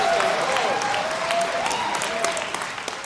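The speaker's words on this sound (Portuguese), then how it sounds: "Eu aplaudo vocês." A church audience gathered on a building rooftop applauds, a steady moderate wash of clapping that gradually tapers off, with a voice faintly present beneath it.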